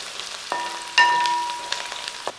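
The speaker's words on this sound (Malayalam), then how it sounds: "കുറച്ച് കറിവേപ്പില, 1 പിടി കറിവേപ്പിലയും ഇട്ട് നിലയ്ക്കും." Curry leaves dropped into hot oil with ginger and garlic give a sudden sharp crackle and sizzle that fades gradually, with a few small pops after, close by and alone.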